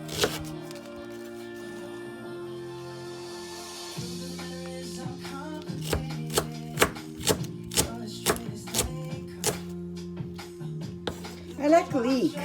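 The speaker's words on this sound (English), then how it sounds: "Cut leek." Knife chopping leek on a cutting board for katsudon, a run of quick irregular chops growing more frequent, fairly close, with background music throughout.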